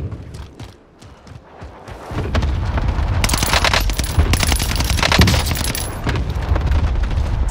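An enemy cluster strike in Call of Duty: Warzone on the Runway map sets off a long, loud, dense barrage of rapid explosions and gunfire that swells after a quieter start and stays heavy to the end.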